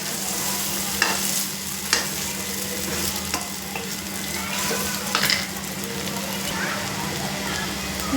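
Egg bhurji being stirred as it fries in a pan, a steady close-up scraping and sizzle with a few sharper clinks of the spoon against the metal, over a low constant hum.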